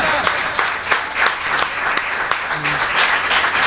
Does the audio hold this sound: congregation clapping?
yes